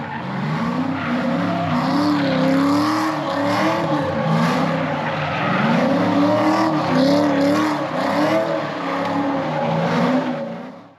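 Inside a warehouse, a drift car circles with its engine revving in repeated rising and falling surges, tires squealing throughout, loud and steady for the whole stretch with no talk.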